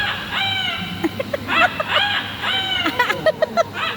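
An Amazon parrot imitates a rooster crow in a series of loud, harmonic, rising-and-falling calls at close range, broken up by short clicks and squawks.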